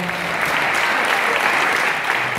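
Steady applause from an audience after a zouk dance formation show at a Latin dance academy event in Munich, dense and even throughout with no talk over it.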